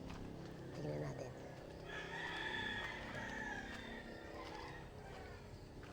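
Backyard hens cluck and a rooster crows faintly in a rural yard, distant and low in level over steady background hiss, with no talking.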